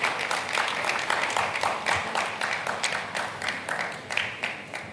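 Audience at an annual lecture claps as the moderator walks up, a fairly faint but distinct run of individual claps in an uneven rhythm, sounding like a modest crowd rather than a roaring hall.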